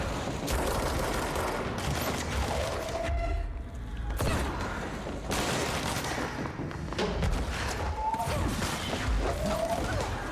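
Enemy gunfire in the video game Control, a dense, loud barrage of shots and crashing impacts that runs almost the whole time, with a short lull in the middle, under busy game sound.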